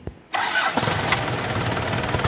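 A car engine cranks on the starter and catches almost immediately, settling into a steady mid-pitched idle, close and fairly loud, on an engine running with its PCV valve removed after a recent service.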